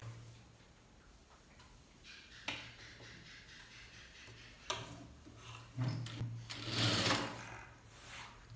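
Sewing machine stitching the lining of a blouse, short bursts of fast mechanical ticking with pauses between, close and fairly quiet, the longest run near the end.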